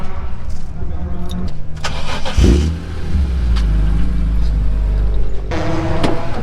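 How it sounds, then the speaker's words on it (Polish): A rally car's engine cranks and fires up before a stage start, settling into a loud, steady idle after a brief rev, with people talking nearby. "Dobra, odpalaj samochód, bo mamy 6 minut do startu."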